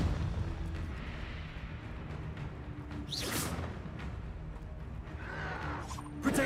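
A Confringo fire spell explodes during a Hogwarts Legacy battle: a steady rumbling din of combat broken by sharp whooshing blasts, one loud burst midway and another near the end.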